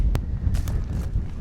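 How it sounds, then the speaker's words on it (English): Strong wind gusts at a muddy hilltop campsite buffet the microphone with low rumbling and a few sharp thumps, steady throughout the short stretch and with no talk. "Ah, man, but it's too windy."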